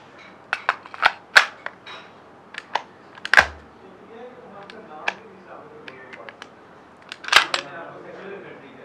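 Metallic clicks and clacks from a CZ 75 P07 Duty pistol as the freshly cleaned and oiled slide is worked and locked back, several sharp close-up snaps spread out with a louder clack near the end, and no talking.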